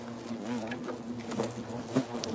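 Asian hornets, an invasive species, buzzing steadily and fairly close around their nest, a continuous droning hum with slight wavering in pitch and no voices over it.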